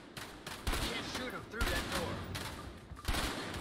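Gunfire rattles in bursts during a firefight in the video game A Way Out, repeated loud volleys with possible voices mixed in the background.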